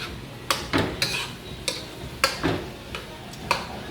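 A spoon stirs drained bulgur into cooked vegetables in a metal pot, giving about eight crisp, evenly spaced clinks and scrapes, close and clear with no talk.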